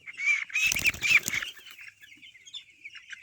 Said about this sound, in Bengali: এই যে একটা মুরগি